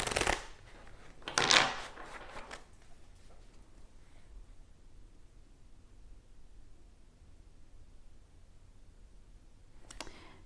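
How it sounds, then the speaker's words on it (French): Tarot cards are drawn and shuffled by hand, giving a short loud riffle near the start, a second burst of card shuffling just after, then quiet handling, with one more brief riffle at the very end. "je pense que je vais tirer une autre carte comme celle-ci."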